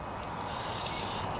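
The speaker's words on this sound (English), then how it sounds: "I'll spray a little bit of this down into the hole here." Carburetor cleaner sprays from an aerosol can into the spark plug hole of an MTD Yard Machines tiller's 139 cc OHV engine, a close, steady hiss that swells briefly midway, with no talking.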